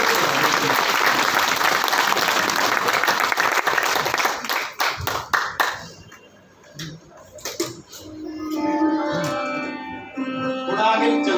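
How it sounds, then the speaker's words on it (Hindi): Loud audience applause at a business achievers' meeting in Robertsganj, dense clapping for about five seconds that thins into scattered claps and then gives way to music. "एक बार जोरदार तालियां बजाइए"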